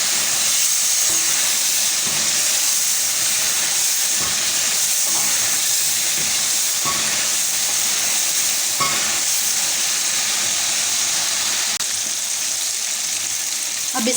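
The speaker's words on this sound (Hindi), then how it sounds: "इसको आप अच्छे से भून लेंगे तमाम कुछ मसालों के साथ" Chicken frying with spices in a karahi, a loud steady sizzle and hiss running throughout with occasional stirring scrapes, no talk.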